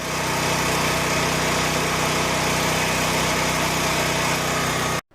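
Portable generator engine running at a steady, loud, buzzing drone with constant vibration, then cutting off abruptly at the end.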